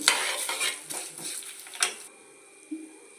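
Cumin, mustard seeds and fenugreek frying in a pan while being stirred, with a metal spoon clinking and scraping against the pan over a light sizzle, then quieter with one last knock.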